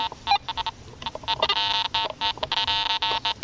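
A Garrett AT Pro metal detector with a 5x8 coil gives short, repeated electronic tones in quick choppy bursts, loud and close, as it sweeps over iron.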